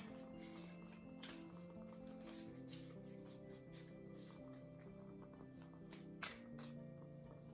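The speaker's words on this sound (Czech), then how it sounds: "Vyložím ještě jedny karty" Playing cards being shuffled and laid out on a surface, quiet and close, with a run of soft flicks and snaps and a few sharper slaps as cards land, over a faint background tone and no talking.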